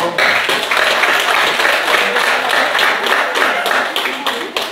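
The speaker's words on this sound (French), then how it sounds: "on applaudit très fort" An audience at a Kabyle gala for the Berber Spring applauds loudly and steadily after a fashion showing, a dense sustained wash of clapping with some voices mixed in.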